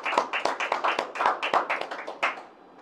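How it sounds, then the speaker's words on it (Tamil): A church congregation claps hands in a quick, steady rhythm for about two seconds, close and lively, before the clapping fades out. "கைத்தட்டி ஆண்டவரை மகிமைப்படுத்தலாமா?"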